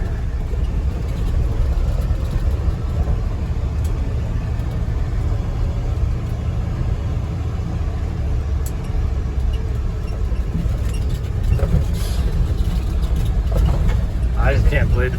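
A 1975 Ford F250 truck with a 390 engine idles steadily, a low continuous rumble close by, with someone talking over it.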